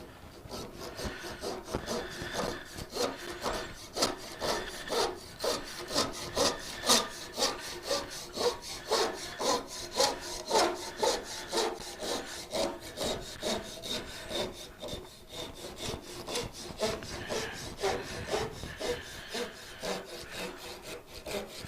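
Steady back-and-forth strokes of a hand saw cutting through wood, rhythmic and close, continuing for the whole stretch with no talking.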